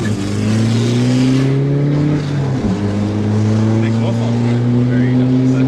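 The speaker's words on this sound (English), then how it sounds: "Love the exhaust" Diesel exhaust of a VW Polo TDI rising steadily under acceleration, a loud continuous low drone close by from inside the car, with people talking over it.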